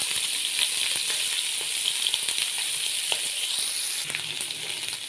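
Mutton pieces fry in hot oil with a dense, continuous sizzle and scattered pops, close and fairly loud, alone without any voice.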